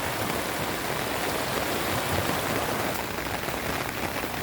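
Steady, dense rushing floodwater roars continuously at close range in the Cagayan River during a typhoon, a loud broadband wash with no pauses, spilling toward a cornfield.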